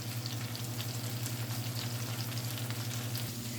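Onions sautéing in a pan until golden brown, giving a steady, even sizzle with faint crackles over a low constant hum throughout.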